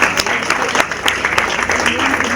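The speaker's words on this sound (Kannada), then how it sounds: "ಜೋರಾದ ಚಪ್ಪಾಳೆಗಳ ಮುಖಾಂತರವಾಗಿ ಅವರಿಗೆ ಅಭಿನಂದಿಸಬೇಕು ಅಂತ ಕೇಳ್ಕೊಳ್ತೇನೆ" Loud applause from a crowd of students at a college graduation ceremony for classmates receiving certificates, a dense, sustained burst of clapping with sharp individual claps standing out.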